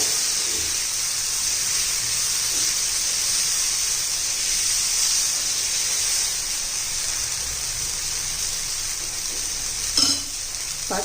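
Moong dal batter spread on a very hot iron griddle over high gas sizzles in a steady, loud hiss that continues unbroken for the whole stretch, with a brief clatter near the end.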